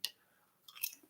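Crunchy Colombian snacks bitten and chewed close to the mic, giving a sharp crunch at the start and then a short burst of crackly chewing, with no talking.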